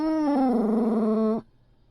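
A dog lets out one drawn-out, high whimpering howl lasting over a second that ends abruptly, close and clear, alone, in a scene where a fawn plays with the dog.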